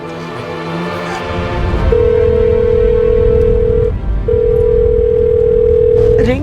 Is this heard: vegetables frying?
no